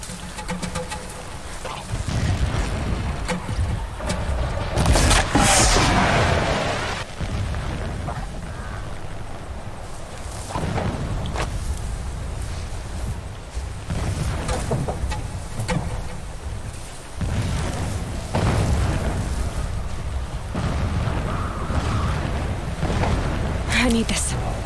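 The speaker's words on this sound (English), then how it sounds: "explosions in the distance" Distant explosions in the video game Horizon Zero Dawn sound as several muffled booming bursts spread across the span, heard under and between stretches of character dialogue.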